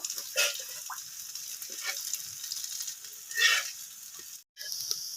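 Red lentil fritters fry in hot oil with a soft, intermittent sizzle and a few bursts as they are flipped, close by and fairly quiet, with a brief cut near the end.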